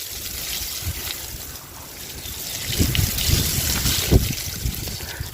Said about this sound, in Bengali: এভাবে পানি মারতে হবে